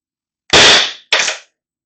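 Two sharp, loud shots from a First Strike paintball marker ring out close by, the first longer with a hissing tail and the second shorter, in an otherwise quiet space.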